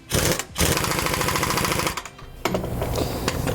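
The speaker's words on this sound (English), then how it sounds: "we're going to come back with that 1 1/8 socket and we're going to tighten all these up" Power tool with a 1 1/8 socket tightening U-bolts on a 2012 Tiffin Allegro motorhome, loud close rattling impact bursts in two or three runs separated by brief pauses.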